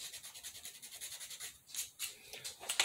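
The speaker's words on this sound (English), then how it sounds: "Take our sander." Sanding on a small craft piece, made as quick rhythmic back-and-forth strokes, fairly faint and close, with a few stronger rasping passes near the end.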